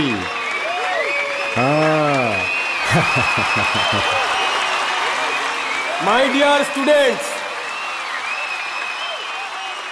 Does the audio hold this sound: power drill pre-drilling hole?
no